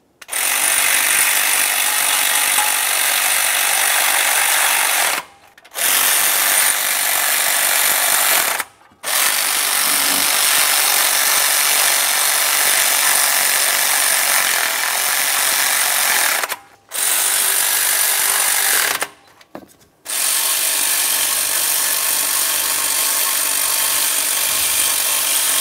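A power tool drives intake mounting bolts tight on a 1994-2002 Dodge Ram 2500, its loud, harsh rattling buzz running in long bursts broken by about five brief pauses, close up with no talk.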